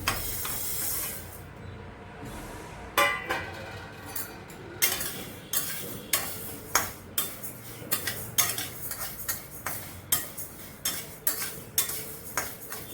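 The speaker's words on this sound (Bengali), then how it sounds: "এবার কড়াই গরম হতে দিয়েছি, আমি এবারে ডালটা হালকা করে ভেজে নেব।" Moong dal dry-roasted and stirred in a hot wok for a green-mango sour dal, a spatula scraping and clinking against the metal in a steady run of sharp repeated strokes over a soft hiss, close and fairly loud.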